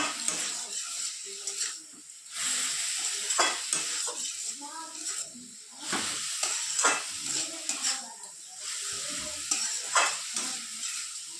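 Mustard greens (rai shak) stir-fried in a pan once the water has cooked off, giving a steady close sizzle broken by repeated scraping and stirring strokes, with no talk.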